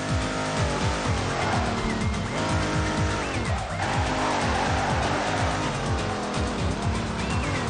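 A powerful car drifting and spinning in the Midnight Club 3 video game, with a loud roaring engine that rises and falls and sustained tire squeal through continuous skids, dense and unbroken from start to finish.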